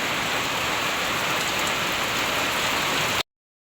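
Heavy rain pours steadily in a mountainous outdoor setting, a dense, loud, unbroken hiss that stops abruptly near the end.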